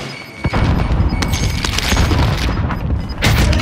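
A frag grenade goes off in Call of Duty: Modern Warfare: a heavy, loud booming blast with rumbling low end that rolls on for several seconds, followed by a second thump near the end.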